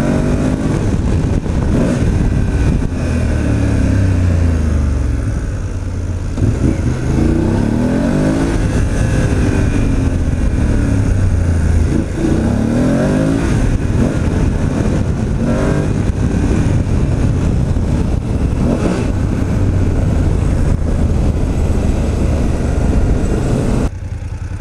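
A motorcycle engine drones steadily while riding, rising and falling in pitch as it shifts gears and accelerates, with constant wind rush.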